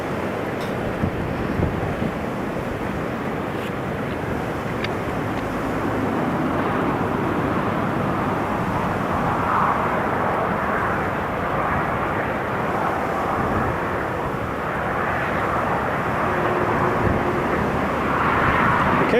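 A KLM airliner's jet engines drone steadily from a distance during pushback at Newcastle Airport, with a continuous low roar and some wind buffeting on the microphone throughout.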